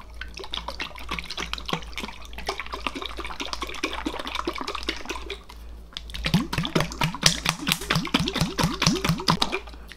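A closed container of herbal skin ointment shaken side to side, giving a steady wet sloshing and clicking rattle that grows livelier and louder in the second half, close to the microphone with no talking.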